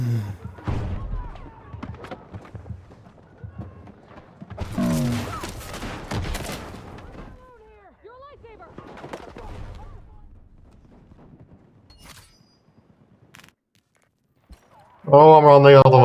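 Gunfire in the game Battlefield 6: rapid bursts of rifle shots and thuds crackle in clusters across the first half, a player talking over parts of it, fading to near quiet before a loud burst of voice at the end.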